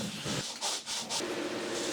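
Drywall joint compound being sanded by hand on a ceiling, a steady close scraping rub broken by a few brief brighter strokes, with no talk.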